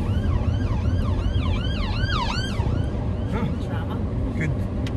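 An ambulance siren wails in rising and falling sweeps close by while passing a car being driven, then fades behind the engine and road rumble that continue throughout.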